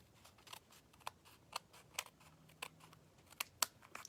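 Hand scissors snip through paper in a quiet room, a series of sharp, separate cuts at irregular intervals, close and fairly crisp with no talking.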